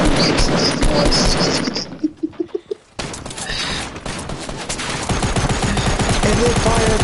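A Fortnite firefight crackles with dense, loud bursts of gunfire, a short sequence of distinct rising shots, then a brief lull before heavy automatic fire resumes and continues steadily.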